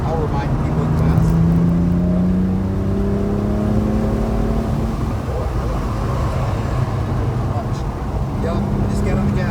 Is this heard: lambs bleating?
no